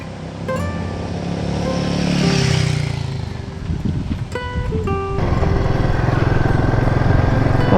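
Royal Enfield Himalayan motorcycle riding along a damp dirt road in Toolangi State Forest, its single-cylinder engine droning steadily and rising through gears, close and loud with wind rumble over it.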